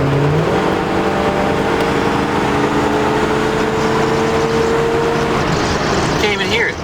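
A car engine idles at a smooth, steady drone from a mellow exhaust, close and constant throughout with no revving.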